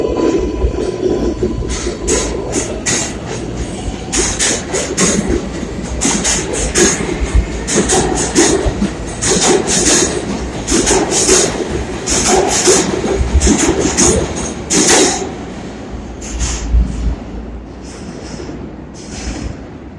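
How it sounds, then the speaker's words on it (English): A New York subway train on the 4 line runs fast, with a continuous loud rumble. Rapid clattering wheel clicks and bursts of high screech ride over it for the whole stretch, and no one speaks. "Train going fast today, y'all."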